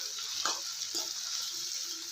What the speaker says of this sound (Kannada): ಟೊಮೊಟೊ ಚೆನ್ನಾಗಿ ಮೆತ್ತಗೆ ಹುರ್ಕೊಳ್ಳೋಣ. ಎರಡು ನಿಮಿಷ ಚೆನ್ನಾಗಿ ಹುರ್ಕೊಳ್ಳೋಣ.